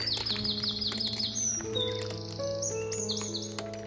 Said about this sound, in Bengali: তো অনেক শালিক।